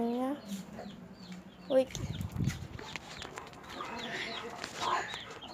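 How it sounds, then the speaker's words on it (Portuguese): A hen and a small rooster cluck and call in a backyard, scattered nearby clucks across the span, with a person speaking briefly over the birds. "Ali o meu galinho. E a fofoqueira. A galinha."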